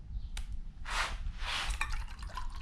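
Acid rust cleaner for a car sunroof being poured out and splashing, a couple of broad wet splashes followed by scattered drips, fairly near and moderately quiet.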